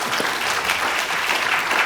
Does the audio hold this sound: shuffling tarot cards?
no